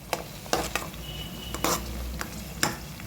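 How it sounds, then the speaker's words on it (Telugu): Onions frying in a pan for a chicken dish, a constant low sizzle with a handful of sharp scraping clicks as a utensil stirs them against the metal. "ఉల్లిపాయ లావుగా కోసామా లేదా అని కాదు, కింద లేదా అని చూడండి. ఇంకా వేగలేదు, వేగుతున్నాయి."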